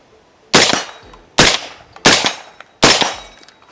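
A UAR-15 rifle packed with sand fires four loud, sharp shots spaced roughly a second apart outdoors at a military range, each crack followed by a short decaying echo.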